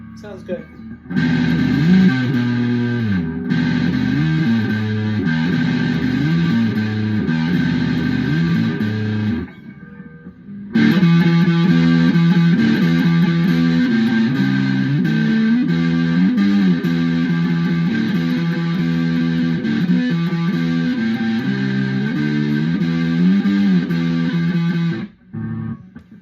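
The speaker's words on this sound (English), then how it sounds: "Distortion sounds really good on this. I love that tone." Distorted electric guitar, a Firefly FFST, plays a series of riffs and sustained chords, loud and up front, with a couple of brief pauses.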